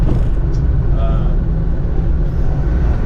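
A Citroen Acadiane van drives along with a steady low engine and road drone, and people talk quietly inside the cabin over it.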